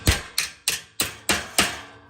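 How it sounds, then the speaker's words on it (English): Five sharp, evenly spaced hammer blows driving an extra piece of metal into a welded outdoor kitchen split bar counter frame, each strike ringing briefly and decaying before the next, close and clear with no voices. "we're going to take our hammer and we'll go ahead and hammer in that extra piece of metal"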